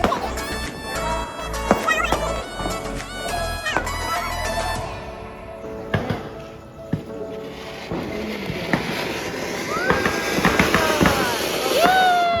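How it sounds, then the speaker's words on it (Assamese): Firecrackers bursting during a festival celebration, a rapid string of sharp pops and bangs for the first few seconds, then scattered crackles and distant bursts, with some voices in the background. "আচলতে আমি বেছিকৈ ফটকা ফুটাই আমাৰ পৰিৱেশটো প্ৰদূষণ কৰিব নালাগে"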